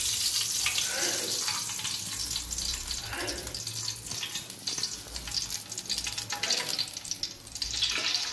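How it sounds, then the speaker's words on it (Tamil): A cup of oil poured into a pot while making mutton biryani, a steady close splashing pour with a hissy sizzle that runs continuously, with no talking. "நம்ம ஒரு கப் எண்ணெய் ஊற்றிடுவோம்"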